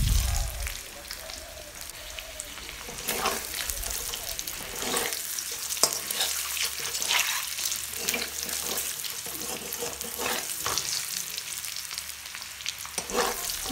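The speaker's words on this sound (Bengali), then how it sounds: "তারপর ডিমগুলো ভালোভাবে ভাজা হয়ে গেলে একটা পাত্রে এগুলোকে তুলে নেব।" Eggs fry in oil in a pan for an egg curry, giving a steady broadband sizzle throughout with scattered crackles and pops, close and moderately loud, with no talking.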